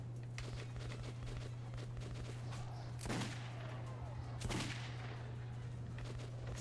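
Gunfire in the video game Metro 2033, two sharp loud shots a second or so apart over a low steady hum and scattered clicks and footsteps.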